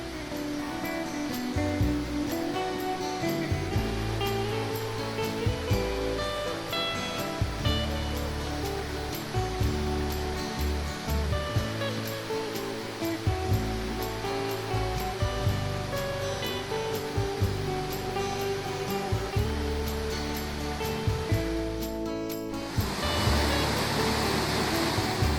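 Water surges into a lock on the Kennet and Avon Canal, rushing and churning loudly and continuously, a heavy turbulent roar that briefly shifts near the end.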